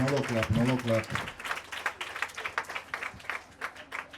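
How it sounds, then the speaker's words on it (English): Guests at a mental health foundation's donation event at a primary school in Grafton clap after a short spoken word, the crisp, uneven claps continuing on their own for several seconds. "Another clap."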